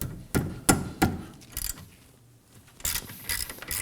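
A 14mm socket ratchet loosening the caliper bracket bolts on a 2016-2020 Kia Sorento rear hub, giving sharp metallic clicks and clacks in short irregular bursts with pauses between, close up and alone.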